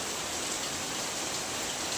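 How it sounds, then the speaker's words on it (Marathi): Heavy rain falls in a constant, even hiss, with no voices or other sounds. "पाऊस बघा घरात विजा मारता"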